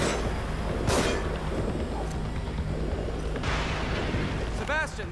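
Enemy gunfire in the survival horror game The Evil Within, loud booming shots and bursts at intervals over a continuous rumbling backdrop, with voices talking in between.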